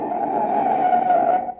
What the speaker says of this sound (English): That's the sound of a car as a desperate motorist has jammed on the brakes in an emergency.